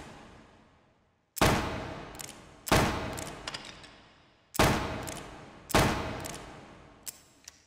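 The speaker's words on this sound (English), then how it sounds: "Let's take a look at the power of this pistol. Let's shoot some targets." A Colt Single Action Army black-powder revolver fires four sharp, loud shots at targets in the VR game H3VR, each spaced about a second or more apart and trailing off into a long echoing decay with small clicks between.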